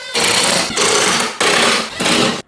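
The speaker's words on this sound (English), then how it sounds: "let's go ahead and drill this thing together." A power drill whirs into wood in four bursts of about half a second each, loud and close, with short pauses between them.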